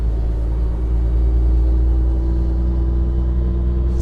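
Onboard a 1931 Cadillac 370A V12 driving gently, with a steady, loud low engine hum and drone filling the cabin throughout, no voices.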